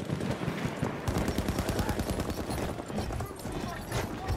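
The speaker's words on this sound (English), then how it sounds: "There's a machine gun!" A machine gun rattles in rapid, steady bursts in Battlefield 1, close and dense, with a voice shouting briefly over the fire.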